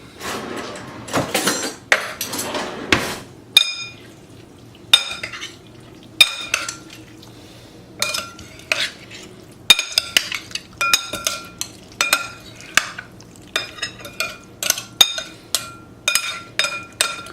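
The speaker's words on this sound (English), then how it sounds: "Let's mix it." Utensils mix salmon tartare in a dish, with repeated clinks and scrapes of metal on the dish in uneven bursts, close and fairly loud, with no talking.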